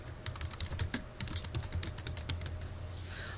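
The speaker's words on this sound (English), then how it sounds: "I type in my search term" Rapid, light keystrokes patter on a computer keyboard as a search term is typed, a close, irregular run of clicks that thins out toward the end over a faint low hum.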